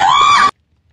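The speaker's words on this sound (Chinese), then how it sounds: "听到老师的惨叫了" A scream from a teacher character in the Minecraft video game, loud and sustained for about half a second, then cut off abruptly into silence.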